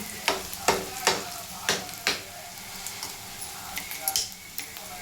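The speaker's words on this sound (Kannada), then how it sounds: "ಈಗ ನಾನು ಸ್ವಲ್ಪ ತುಪ್ಪನ ಹಾಕ್ತಿದ್ದೀನಿ" Ghee meets a hot pan with a soft sizzle under several sharp clinks and scrapes of a spoon stirring, close by and moderately loud, with faint background noise between the strokes.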